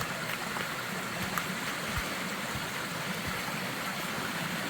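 A stream crossing on a redwood river trail, with steady broadband water rush close by, continuous and fairly even, with a low rumbling undertone and no voices.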